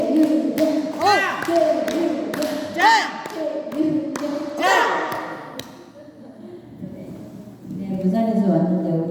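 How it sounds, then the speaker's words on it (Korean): Audience members at a healing camp event clap in scattered, sharp bursts over the first few seconds while a speaker talks loudly over them, and talk continues after the clapping dies away. "박수!"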